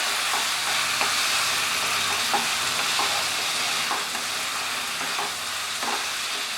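Spice paste stir-fries in a kadai over a high flame, giving a steady loud sizzle throughout. A spatula scrapes and stirs in regular strokes close by, with no speech.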